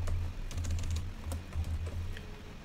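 Rapid typing on a computer keyboard, close up, with irregular clusters of light key clicks over a steady low hum and no voices.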